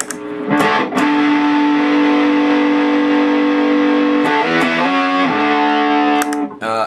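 A heavily overdriven electric guitar through a Zen Drive clone stacked with a VFE Fiery Red Horse pedal rings out in thick, fuzzy chords and sustained notes, loud and saturated, with a few sharp pick attacks and note changes.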